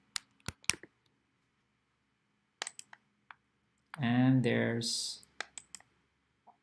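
Computer mouse clicks while building an equilateral triangle in GeoGebra geometry software, several sharp isolated clicks in small clusters, with a brief stretch of speech in the middle.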